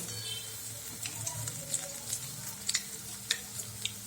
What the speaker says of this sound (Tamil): இந்த வடையெல்லாம் கொஞ்சம் வெந்தவொடனே இப்படி திருப்பி விடுங்க